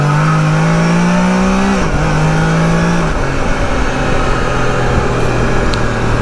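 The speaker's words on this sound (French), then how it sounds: "Allez, gaz!" A Can-Am Spyder RT three-wheeled motorcycle accelerates hard, its engine note rising, briefly dropping at a gear change, then climbing again and settling into a loud, close, sustained drone.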